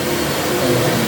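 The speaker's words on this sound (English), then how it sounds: "I'm adding some screws in so that I can take the clamps off" A power drill or driver whirs steadily at close range, driving screws into a cabinet being upcycled to hold it together so the clamps can come off, with a constant motor hum and no voices over it.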